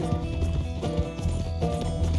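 Hoofbeats of a horse galloping in the video game Red Dead Redemption 2, a steady rhythmic clip-clop with low thuds over game ambience, continuous and fairly close.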